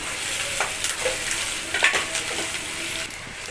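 Steady, hissing sizzle of onions sautéing in a hot pan for ragi khichdi, with occasional light clinks of a utensil stirring.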